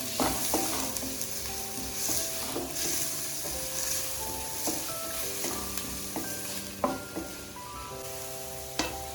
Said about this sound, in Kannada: ಸ್ವಲ್ಪ ಬ್ರೌನಿಶ್ ಬರೋವರೆಗೂ ಫ್ರೈ ಮಾಡ್ಕೊಳ್ಳಿ.